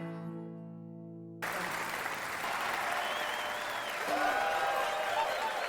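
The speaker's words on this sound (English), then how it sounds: "The crowd is exploding." A large crowd erupts into loud, sustained cheering and applause after a quieter musical passage, with whistles rising above the roar.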